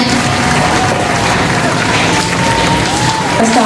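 Studio audience applause welcoming a guest onto a comedy game show, a dense continuous wash of clapping that stays loud and even throughout.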